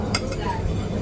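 A spoon stirs a bowl of rice porridge with salted egg and fried dough at a hotel breakfast, giving brief clinks and scraping against the dish over background chatter.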